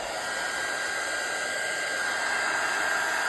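A heat tool blows over a craft junk-journal page with a freshly applied background, drying it in a steady, close, even whoosh that holds for the whole stretch with no talk.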